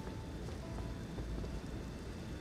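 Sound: rain and thunder in video game Elden Ring

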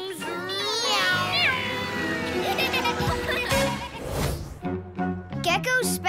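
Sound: cartoon character imitating a cat meow

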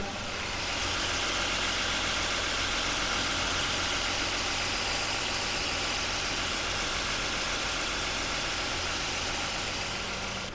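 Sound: car engine idling

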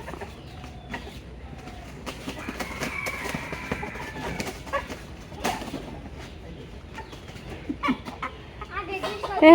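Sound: rooster clucking while being caught for slaughter

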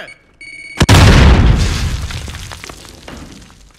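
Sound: grenade explosion in the video game Call of Duty Warzone

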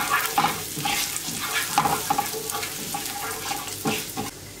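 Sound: sautéing with thyme and chili flakes in a pan

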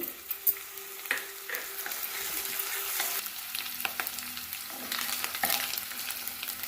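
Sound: onions frying with ginger garlic paste

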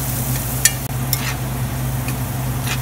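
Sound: vegetables sautéing in bacon fat

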